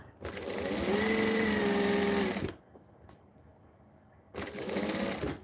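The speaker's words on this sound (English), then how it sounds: "This is more stitching" Sewing machine stitching through joined fabric layers, a loud close mechanical whir running steadily for about two seconds, pausing into near quiet, then starting up again.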